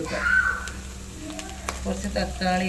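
Onions and fenugreek sizzle in a pan as tomato goes in, with light stirring scrapes and a steady frying hiss under a person talking.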